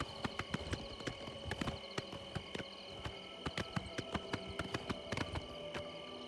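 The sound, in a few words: horse hooves clip-clopping in a video game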